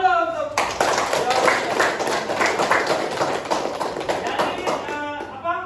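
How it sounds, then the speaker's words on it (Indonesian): Classroom audience clapping during a vocational school lesson, a burst of many hands clapping fairly loudly for several seconds, starting abruptly after a short tone and fading near the end. "tepuk tangan dulu"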